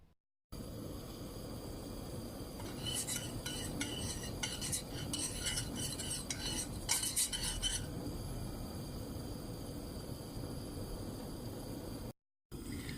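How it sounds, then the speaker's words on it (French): A spoon stirs sugar and water syrup in a saucepan with steady, scraping clinks against the pan, soft and close, the strokes quickening for a few seconds before settling into a continuous bubbling hiss. "Voilà, le sucre commence à fondre dans l'eau."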